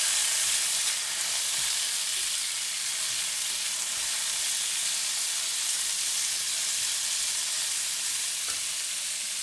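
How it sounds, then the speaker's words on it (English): Steady, loud sizzling and crackling of black fungus stir-frying in very hot garlic oil, a dense hiss that continues throughout with faint scraping. "In the same pan with the very hot garlic oil, add in the black fungus and stir fry for 30 seconds."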